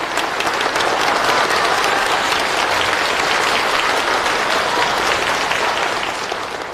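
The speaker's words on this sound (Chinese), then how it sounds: "首先请大家用热烈的掌声和欢呼声以及你们的呐喊声，祝愿我们的老寿星福如东海" Warm, sustained applause and cheering from guests at an elder's birthday banquet, a dense wash of clapping that holds steady for several seconds before easing slightly at the end.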